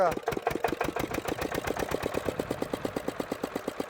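A homemade motorcycle built around an old Peter engine, its single-cylinder thump firing in rapid, even pulses that quicken as it revs and then settle into a steady, loud chugging beat, close by.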